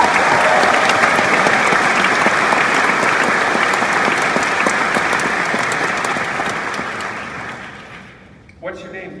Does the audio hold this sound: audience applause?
yes